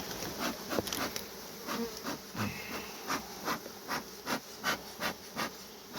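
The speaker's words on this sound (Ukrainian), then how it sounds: "хочеш не хочеш, але працюємо з бджілками" Bees buzzing around a beehive in winter at night, a steady close insect drone with rhythmic swelling pulses, no voices.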